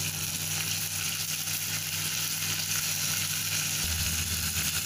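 Green chillies and mint sizzle in hot oil with browned onions for a dhaba-style mutton biryani, making a steady, loud frying hiss close by with a slight shift partway through and no talk.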